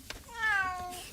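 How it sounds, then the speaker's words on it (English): A cat meows once, a clear drawn-out call rising then falling, close and moderately loud over quiet room tone. "what's with the cat?"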